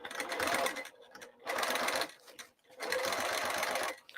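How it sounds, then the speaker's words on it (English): A sewing machine stitches over a bag's rolled handles in three bursts of fast, close whirring separated by short pauses. "I'm stitching over those rolled handles."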